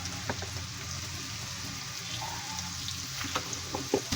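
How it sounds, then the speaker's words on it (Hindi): Okra halves frying in about three spoonfuls of hot oil in a pan, giving a steady close sizzle with faint crackles and a few sharper pops toward the end, no talking. "अब मैं भिंडी को हाफ ऑफ करके फ्राई करूँगी इसमें"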